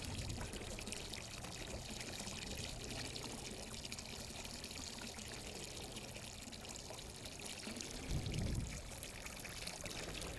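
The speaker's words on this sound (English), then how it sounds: "I'll just pour in the acid slowly to move this acid around" Liquid acid poured slowly into swimming pool water, a steady continuous pouring and splashing wash that holds throughout, with a brief louder gush near the end.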